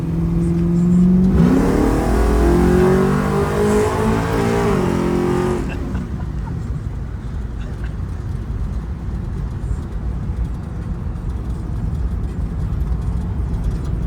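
A drag-prepped car accelerates hard at full throttle, engine pitch climbing steeply to high RPM before a gear shift, then the roar cuts off into lower, quieter engine and road noise.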